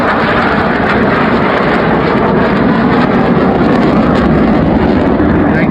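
A display plane's aircraft engine drones loud and steady throughout an airshow aerobatic routine, a dense continuous roar with no pauses and no voices.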